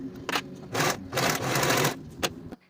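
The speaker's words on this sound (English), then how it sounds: "Sew or serge with the 1/4 inch seam allowance." A sewing machine stitches a fabric seam in several quick bursts, its rapid needle chatter starting and stopping between short pauses, close and loud with no voices.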